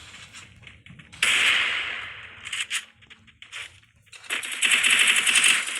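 Video game gunfire comes in rapid automatic bursts, loud and close, broken by short pauses and single sharp shots, then a long sustained burst toward the end.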